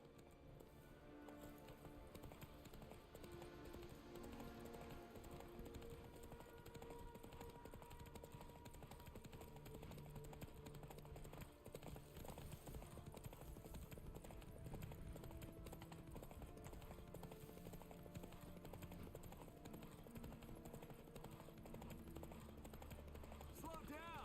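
Horse hooves gallop in a steady, fast clip-clop rhythm throughout a Witcher 3 video game scene, loud and continuous beneath a layer of game ambience and music.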